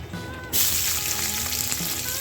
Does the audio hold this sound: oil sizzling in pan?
yes